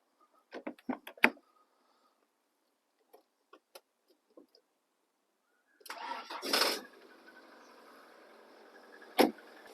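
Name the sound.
car engine starting after jump start from spare battery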